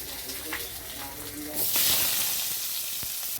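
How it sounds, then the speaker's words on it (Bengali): Steamed potato pieces going into hot oil: a soft murmur of kitchen sound, then a sudden loud hiss and crackle as the frying starts, sustained before cutting off. "এবার একে একে আলুটাও ভেজে নেব"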